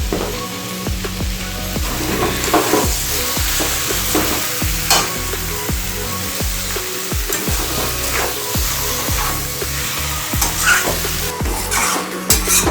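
Chicken frying in a pan for curry while being stirred, a continuous loud sizzle broken by frequent scraping strokes of the spoon against the pan, close and busy throughout with no talking.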